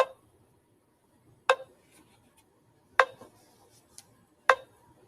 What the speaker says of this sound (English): let's put a metronome to that.